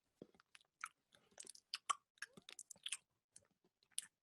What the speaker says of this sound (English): We're pretending we're chewing gum.